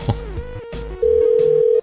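Telephone being dialed on a radio show, with a few short bursts of handset clicks and noise, then a loud steady electronic tone held for most of a second before cutting off.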